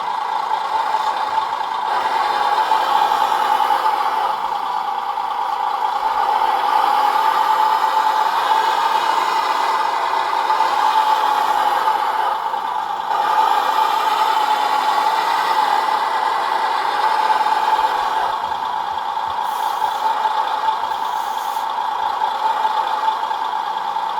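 Electronic sound kit on a 1/14 Tamiya Grand Hauler Peterbilt RC dump truck plays a steady droning engine idle, with slight swells in level over the whole stretch and no talking.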